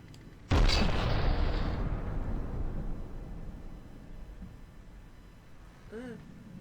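A single heavy cannon blast in From The Depths strikes a ship's turret, a sharp close boom decaying into a long rumbling tail, followed by a faint warbling tone near the end.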